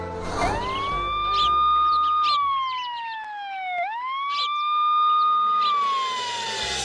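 A cartoon-style ambulance siren wails in long rising and falling sweeps, loud and close, carrying on steadily for several seconds with nothing else behind it.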